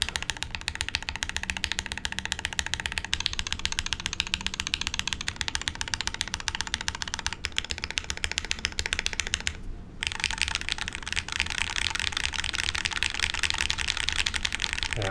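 Rapid, continuous clacking of typing on a modded Neo65 mechanical keyboard, close and steady with a brief pause partway through.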